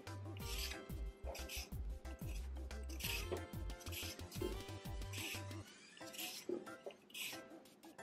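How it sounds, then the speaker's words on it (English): A carrot scraped with a peeler, giving a series of short raspy strokes at an uneven pace, close up, over steady background music. "Okay, so we're just gonna peel the carrot."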